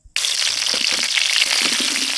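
Potatoes dropped into hot oil in a wok burst into a loud, steady sizzle that starts abruptly and holds close and bright throughout.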